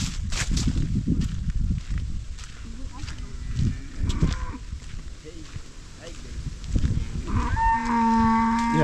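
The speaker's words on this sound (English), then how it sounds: "You have the cow making noise." A cow moos loudly nearby over rural road noise, with a voice talking throughout and a long low bellow toward the end.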